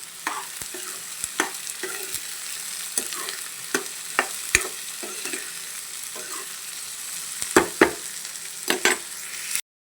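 Onions, with green chillies and curry leaves added, fry and are stirred in a pan for a simple egg curry, giving a steady sizzle broken by scraping stirs and a few louder clatters near the end.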